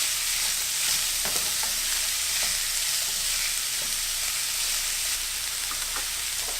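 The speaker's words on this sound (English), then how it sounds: "Go ahead and add my jackfruit. Get this mixed all up." Jackfruit stirred in a hot pan gives a steady, close sizzling hiss with a few soft scraping strokes of the spoon, continuous and even throughout, with no speech.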